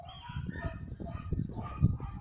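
A rooster crows in the morning around a quiet home. The call rises faintly over steady low rumbling background noise, with one stronger burst near the end and no talking.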